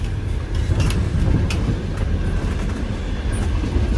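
Soviet-era passenger train running between Bucharest and Chisinau, heard from inside a shaky carriage: a steady low rumble with faint rattles and a few sharp clicks, no talking.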